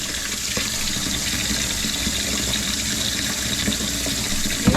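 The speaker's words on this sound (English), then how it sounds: "Cold water." Cold water runs steadily from a tap into a container being filled with a little dish detergent, a continuous close rushing splash with no pauses and no voices.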